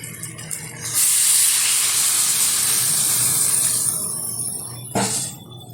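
Water poured into hot, well-fried spice masala for a prawn and young jackfruit curry sets off a loud, sharp hiss and sizzle that bursts up suddenly, holds steady for several seconds, then eases, with a brief clatter near the end; no talking.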